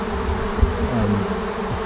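A swarm of honeybees buzzes in a steady, dense drone close by, with no voices over it.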